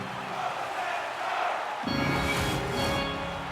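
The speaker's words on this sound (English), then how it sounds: "you can feel the energy in this crowd" Simulated hockey arena crowd in the NHL 26 video game during a tied playoff period, a steady roaring wash of cheering that swells louder partway through.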